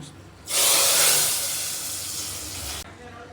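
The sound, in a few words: tempering mustard seeds, cumin, chana dal and curry leaves sizzling in oil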